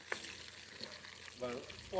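Plantain fries cut like steak fries, seasoned with salt and black pepper, fry in oil at an outdoor yard cookout, a low sizzle with faint clicks and brief bits of background voice.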